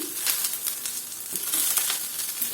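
Shredded cabbage and carrot sizzle and crackle in a hot pan, a steady close frying hiss broken by brief stirring scrapes, with no talking.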